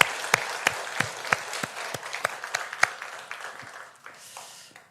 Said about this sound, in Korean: 우리 학생들을 박수로 격려하겠습니다